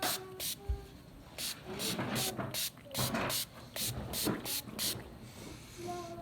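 Several quick hissing sprays of Give a Hoot eco cleaner from a trigger bottle onto a counter, short bursts in an uneven rhythm, close by, with faint background noise.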